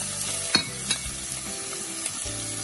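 Chicken and vegetables, including green and red pepper, stir-fried in a pan for a cinnamon pineapple chicken dish, with a steady close sizzle broken by a few sharp clanks of utensil against pan.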